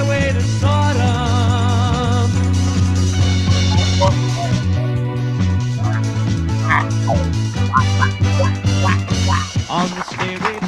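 A voice imitates a duck, giving repeated quacks layered over loud, continuous music with a steady beat.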